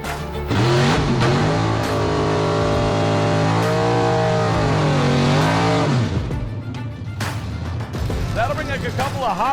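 Supercharged drag race car with a freshened blower and reground camshaft launching: a loud roaring engine note that climbs and holds, bends at the shift, then cuts out into crowd and track noise, with an announcer talking over it.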